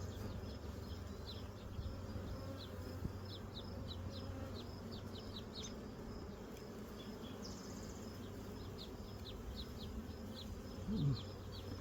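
Honeybees drone steadily around an open hive frame, a dense continuous buzz close to the microphone with faint chirps of individual bees passing through.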